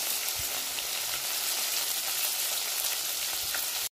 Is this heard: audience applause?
no